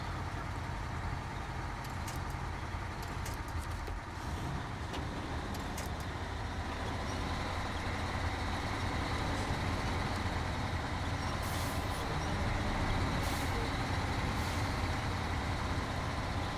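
Truck engine driving in Snowrunner, a steady, low, continuous drone with road rumble and occasional faint clicks and hisses, moderately loud and unbroken throughout, with no talk.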